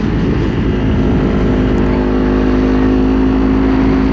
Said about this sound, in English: I hope you guys can hear me pretty well over the bike.